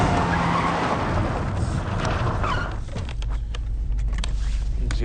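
A car skids as it turns around, giving a loud, close, sustained tire scrub under engine noise. It fades into rumbling engine and scattered knocks.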